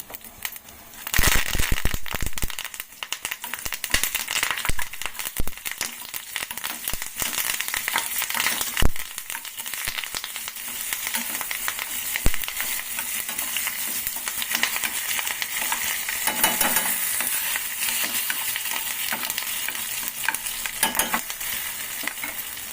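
Loud, steady sizzling and crackling of curry leaves and dried red chillies hitting hot oil for a tempering, with occasional sharp pops and a stirring clatter, continuing throughout with no talk.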